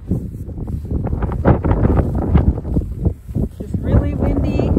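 Strong wind gusts buffet the microphone on a snowy cross-country ski trail in fresh powder, a constant rough low roar with bursts throughout, and voices talking faintly beneath it.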